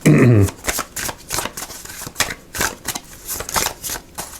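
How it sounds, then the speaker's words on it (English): Cards are riffled and shuffled in a series of crisp, rapid flutters and snaps, close up, with short pauses between passes. "Shuffle this up a little bit here."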